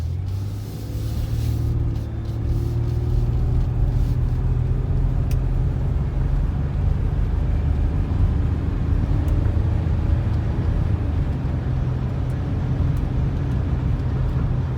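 A 1998 Ford Windstar minivan cruising on the road, with a steady low engine and road rumble and broadband tire noise holding evenly from start to finish.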